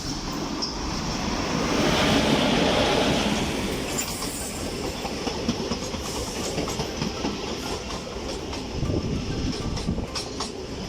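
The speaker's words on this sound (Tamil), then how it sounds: "நம்ம ட்ரெயின் பேசஞ்சர் ட்ரெயின் பார்த்தீங்கன்னா அரைவ் ஆகிடுச்சு" A passenger train rumbles close by at Nagercoil Junction with rhythmic clickety-clack of wheels over rail joints and faint metallic squeals as it rolls into the station.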